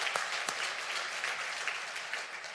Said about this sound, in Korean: 할렐루야님께 영광의 박수 올려드립니다.